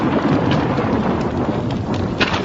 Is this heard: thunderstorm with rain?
yes